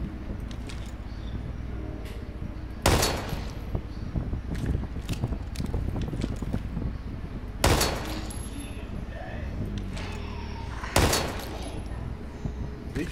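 Three sharp, separate shots ring out in the horror shooter Daymare 1998, spaced a few seconds apart over quiet background noise and softer movement sounds, with someone talking between them.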